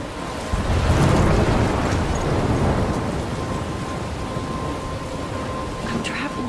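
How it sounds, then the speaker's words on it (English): Thunderstorm in Life is Strange: a heavy rumble of thunder swells early, then steady rain hisses on, with a few faint sharp crackles near the end. "I'm trapped in a storm?"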